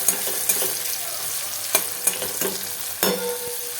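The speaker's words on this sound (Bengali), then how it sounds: "টমেটো কুচি দিয়ে ভালো করে এটাকে একটু লাল করে হালকা লাল করে ভেজে নেবো পেঁয়াজগুলো" Chopped onions and tomato, with garlic, fry in a pan with a constant sizzle, while a spoon stirs and scrapes with several sharp clinks and knocks spread across the span.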